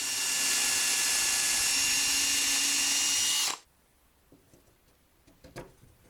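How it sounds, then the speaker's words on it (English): A power drill bores a hole through a homemade band saw side guide, whining loud and steady for about three and a half seconds, then cutting off to near silence with a few faint clicks and handling noises. "I need to drill a hole in each one of the side guides for a 1/4 inch carriage bolt"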